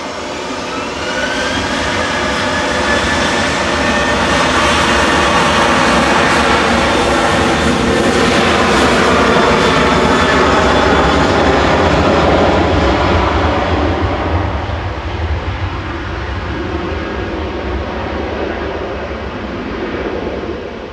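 A TUI jet airliner takes off from Manchester Airport, its engines a loud, sustained roar that swells over the first dozen seconds and then slowly eases off as the aircraft climbs away.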